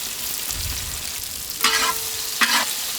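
Ginger and garlic stir-fried with quail in a pepper fry over a village cooking fire, a steady low sizzle broken by two short bursts of scraping stirring, no voices.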